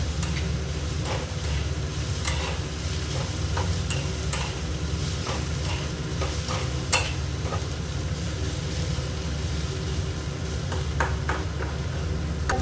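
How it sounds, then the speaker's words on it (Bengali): Garlic frying in oil in a pan on low-medium heat, a continuous close sizzle with a low rumble and intermittent scraping clicks of a spoon stirring, with no talking. "গ্যাস লো টু মিডিয়াম করে ভাজবেন, নাহলে পুড়ে গেলে ভালো লাগবে না।"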